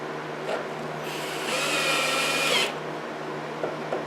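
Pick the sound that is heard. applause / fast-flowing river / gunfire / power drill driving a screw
power drill driving a screw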